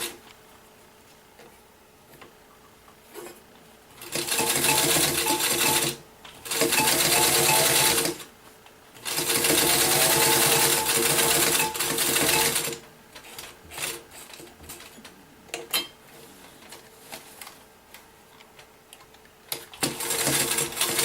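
A sewing machine stitches a zipper onto a barrel bag pocket in several loud bursts of rapid mechanical whirring, separated by pauses filled with quieter clicks and handling of the fabric.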